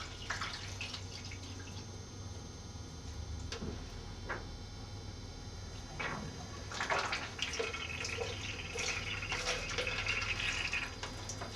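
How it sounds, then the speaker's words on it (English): Darkroom developer chemical poured into a developing tray, soft trickling and dripping liquid sounds with a few small clicks, growing into a fuller pouring splash in the second half, close and fairly quiet. "Pour my chemical into the tray."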